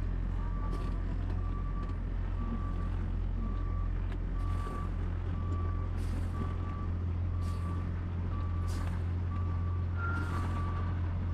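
A truck backs up with a steady, evenly spaced reversing beep repeating about a dozen times over a low idling engine rumble, with a few brief hisses and clanks.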